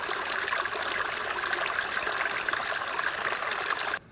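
Fast-running, clean wilderness stream water rushes and babbles steadily at close range with no talk, the broad continuous flow cutting off abruptly just before the end.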